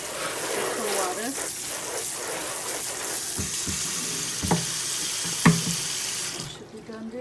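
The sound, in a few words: cold water sprayed on sides of a rice steamer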